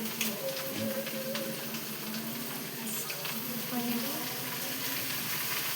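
Minced meat (keema) frying in a pan gives a steady, low-level sizzle that runs without pause, quiet and close, with faint kitchen clatter in the background.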